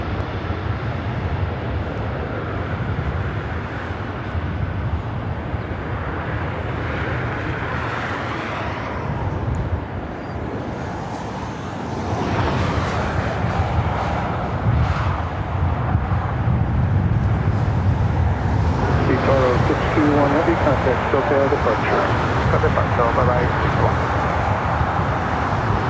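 An Airbus 330 airliner departing LAX, a loud, steady jet engine roar that swells and broadens as it climbs away, with some wind buffeting the microphone and no voices.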